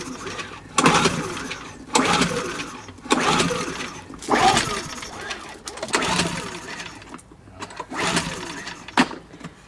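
A small, cheap generator engine cranks repeatedly in rough bursts, sputtering and dying between pulls, close by, several attempts in a row without catching.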